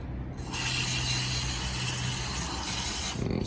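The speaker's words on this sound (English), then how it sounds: "we just got to spray that down and then hopefully it will be all clean" Cleaner hisses from a spray can onto a sensor while detailing a cheap Mercedes coupe, one long continuous close-up spray lasting about two and a half seconds, starting and stopping abruptly.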